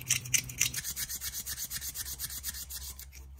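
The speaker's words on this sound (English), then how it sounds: "Then I'm going to get a small piece of sandpaper, 400 grit, and stick down in there and get as much of that surface rust off as I can." Small piece of 400 grit sandpaper rubs surface rust off a Boker USA pocket knife, a close, fast rhythmic scraping of roughly a dozen strokes.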